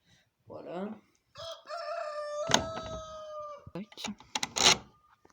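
Two hens and a rooster in a backyard coop, with a loud close rooster crow and sharp clucks and squawks from the hens in quick succession.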